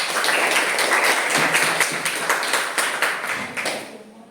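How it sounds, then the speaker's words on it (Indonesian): A classroom group claps for group 4, the applause a dense, fairly loud patter of many hands that stays steady and then thins out toward the end. "Aplaus untuk kelompok 4."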